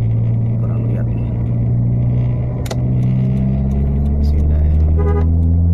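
A car passes two large trucks on an open road, its engine rumbling steadily while a horn gives a short toot near the end; someone talks briefly over the road noise.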